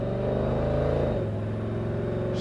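A 1955 Ford F-100 pickup truck engine drones steadily while driving, its pitch dropping midway as it shifts gears, close and continuous with no talk.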